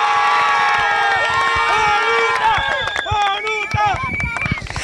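A loud crowd cheers, whistles and shouts at the Flor de Oro 2013 pageant election, a dense continuous roar of voices filling the hall with sharp yells throughout.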